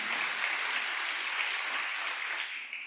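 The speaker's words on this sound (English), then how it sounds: "Never let someone get to the stage with the applause gone, so do it again" An audience at the Publishing Triangle literary awards ceremony applauding as an award winner heads to the stage, with steady, dense clapping that tapers off slightly at the end and no voices.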